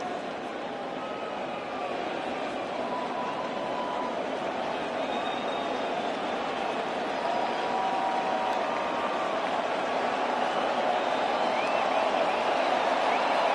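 A baseball stadium crowd during an ALCS playoff game between the Astros and Red Sox, a broad distant roar of voices and cheering that holds steady and swells slightly toward the end.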